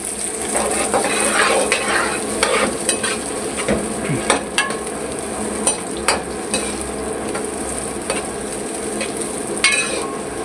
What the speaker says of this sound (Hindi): तमाम सब्जियों को फ्राई करना